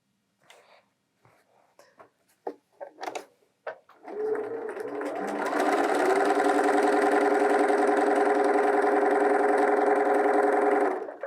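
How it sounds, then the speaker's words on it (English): A Bernina 325/335 sewing machine, its thread tension turned up to the tightest setting, starts after a few light clicks and taps and then runs steadily, a loud, even mechanical whir that holds to the end. "I'm going to go all the way to 10. Hopefully I won't break my thread."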